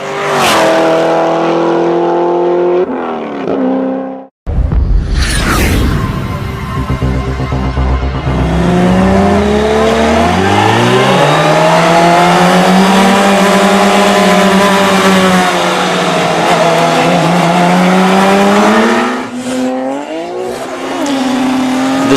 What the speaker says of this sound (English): The Supra allows the Lamborghini a little bit of a jump, knowing that it's got enough horsepower to chase it down